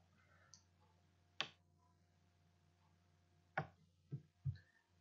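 A computer mouse gives several crisp, isolated clicks spaced a second or two apart, the last two close together, in a quiet room with no talking.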